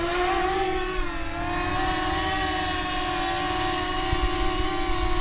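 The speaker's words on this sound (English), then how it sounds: "So I have the drone powered up and the prop guards on here, and I'm just going to launch it." DJI Mini 5 Pro drone with prop guards fitted, its propellers producing a steady, loud, high-pitched whine with layered tonal harmonics, close and continuous without talk.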